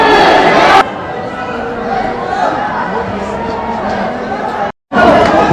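Crowds of devotees at the Khatu Shyam temple in Rajasthan fill the air with a loud, continuous wash of chanting and babble, close and dense, with a brief dropout near the end.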